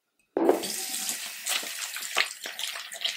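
Tap water gushing steadily into a bathroom sink during face rinsing, starting abruptly after a brief silence and continuing with splashy, uneven spatters close by.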